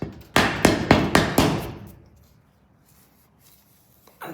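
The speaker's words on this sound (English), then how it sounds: "And then we come on the inside, and then we hit against the dents." A hammer knocks out dents from the inside of a metal roller door: five quick, ringing metallic strikes in an even rhythm, close and loud, then fading into near silence.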